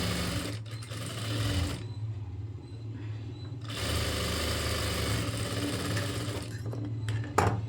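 A tailoring sewing machine stitches a blouse in loud, close, rapid mechanical runs. The runs break off twice into brief pauses before starting again.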